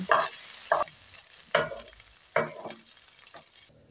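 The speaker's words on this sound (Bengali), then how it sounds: "দিয়ে এটাকে মিডিয়াম ফ্লেমে রেখে 1 মিনিট মতো নাড়িয়ে চাড়িয়ে নেব" Drained basmati rice stirred in a pan over a medium flame for white pulao, with several distinct scraping strokes at an uneven pace over a steady low sizzle, close and alone.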